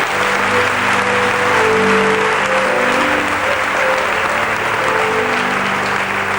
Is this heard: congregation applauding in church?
yes